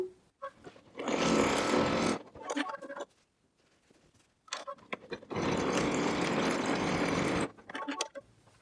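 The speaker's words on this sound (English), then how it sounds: "Put the presser foot down again and continue stitching." Embroidery machine stitching a nutcracker applique on velvety fabric: two long sustained bursts of rapid mechanical stitching, close and steady, separated by short pauses with light clicks.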